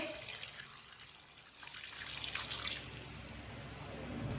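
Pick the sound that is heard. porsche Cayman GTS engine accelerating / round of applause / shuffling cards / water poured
water poured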